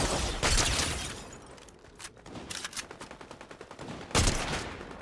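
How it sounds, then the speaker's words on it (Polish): Fortnite gunfire: loud bursts of rapid shots in quick rhythmic strings, with sharp single cracks and a heavy blast near the end, fairly close and with no talk over it. "Tu się strzelają."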